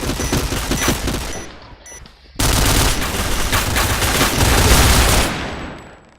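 Gunfire in the Point Blank shooter game comes as dense automatic bursts, with scattered shots, a brief lull, then a long loud sustained volley that tapers off at the end.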